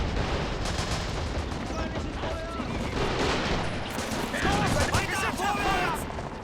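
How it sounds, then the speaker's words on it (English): Grenade blast and gunfire in the World War II strategy game Men of War: Assault Squad 2 during a trench assault, with steady, dense battle noise and shots throughout, and a voice talking over the combat. "Grenade went off there."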